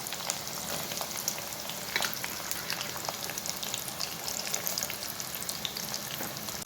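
Mustard seeds, curry leaves and cut gooseberries fry in hot oil, giving a steady close sizzle with scattered small pops and crackles.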